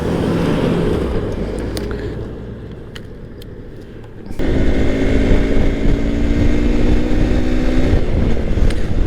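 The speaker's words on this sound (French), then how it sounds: "Le moteur il reste un petit peu volontaire, hein, plutôt dans les hauts régimes je trouve." A Malaguti Dune 125 motorcycle engine runs steadily, fading lower before rising abruptly into a louder, sustained drone with a rising pitch and wind buffeting, as if picking up speed on small paths.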